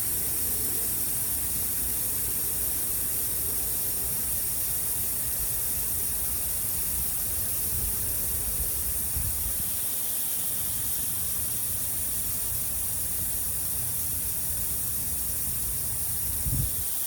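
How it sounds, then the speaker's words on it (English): Air escapes from a tire valve that has been opened with a screwdriver tip, giving a long, even, fairly quiet hiss that holds steady from start to finish. "Get you a screwdriver or something, put it in the valve, let the air out the tire."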